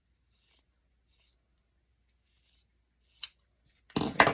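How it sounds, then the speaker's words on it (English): Scissors work through a small scrap of craft material along a diagonal, making a few faint, soft snips spaced apart and then a louder, denser crunch of cutting near the end, close by in a quiet room. "I am just going to cut a diagonal all the way up. It's not wanting to cut."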